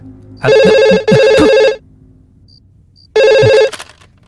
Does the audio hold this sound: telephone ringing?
yes